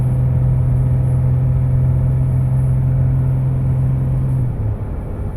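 An EcoDiesel pickup truck engine drones under load while towing, a loud, steady low hum from inside the cab for several seconds that eases off slightly near the end.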